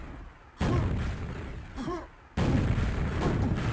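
Gunfire bursts from a first-person shooter in a competitive duel, loud and dense with a brief dip partway through before resuming; no one talks.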